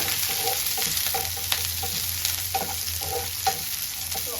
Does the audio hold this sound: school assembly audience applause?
no